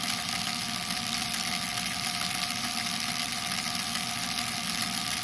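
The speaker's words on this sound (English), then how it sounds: "Now the motor is running power." A small DC motor driven by an Arduino motor shield runs with a steady, continuous whir that holds level throughout, nearby and alone with no talking.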